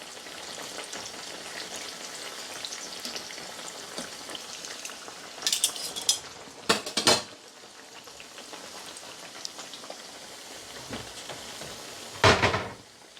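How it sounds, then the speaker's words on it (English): Plantains frying in hot oil in a home kitchen while festival dumplings cook for a Jamaican jerk pork meal, giving a steady close sizzle and crackle with a few louder bursts of spattering, no talking. "Now I'm going to leave it to fry until they're golden brown"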